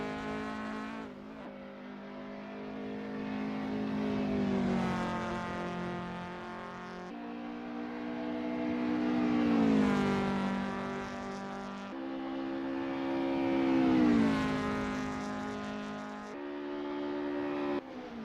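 A Lotus Cortina MK1 race car in Assetto Corsa at Snetterton 1964, its engine droning through repeated rising revs and sharp gear changes, close and steady, with no talking.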